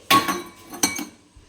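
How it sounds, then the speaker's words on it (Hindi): Metal dishes clinking as prasad is served onto a plate for Chhath Puja, two sharp close clinks with a faint tap at the end. "हम इस प्लेट में हम निकाल देंगे प्रसाद को"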